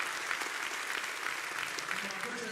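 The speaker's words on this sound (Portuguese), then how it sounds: "Vamos aplaudi-lo e vamos dar boas-vindas a ele" Steady, dense applause from a large church congregation, continuous and even throughout, with voices faintly mixed in.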